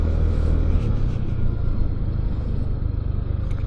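An FKM Fyro 180 motorcycle engine idling at low RPM, a loud, steady low rumble close by with no revving.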